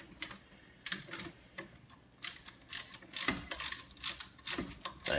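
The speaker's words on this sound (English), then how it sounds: "And we can continue with the ratchet." A hand ratchet tightens the hub bolts on a Chevrolet Uplander during a front hub and bearing replacement, giving quick bursts of sharp clicking in short runs with brief pauses between strokes, close by and fairly quiet.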